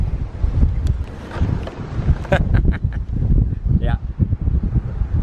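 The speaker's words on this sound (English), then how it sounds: "let's see how this wind does. It's again a bit gusty now at the moment." Gusty outdoor wind buffets a Canon SX710 camera microphone fitted with a homemade sound muff, producing loud, uneven low rumbling bursts throughout, with a brief voice heard over it.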